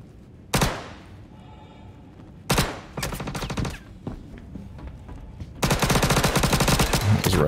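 Automatic weapon fire in the space sim Star Citizen comes in three loud bursts: a short one early, a longer rattling stretch in the middle, and a sustained close volley at the end, with quieter gaps between.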